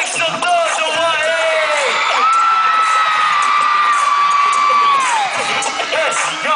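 A large Filipino crowd cheers, whoops and shouts loudly and continuously at a live event, with long sustained yells rising over the roar.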